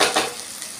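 Okra frying in hot oil in a home kitchen, a loud, steady sizzle with a brief stirring scrape, lasting under a second.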